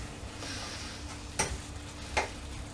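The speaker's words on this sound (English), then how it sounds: "Stir that in." Ingredients being stirred into a filling for spring rolls in a bowl, giving a soft steady scraping rustle with two sharper knocks of the spoon against the side, close and quiet, with no talk.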